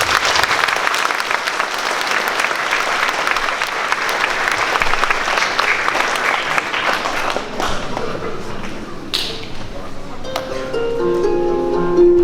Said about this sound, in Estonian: Teeme neile hästi tugeva aplausi.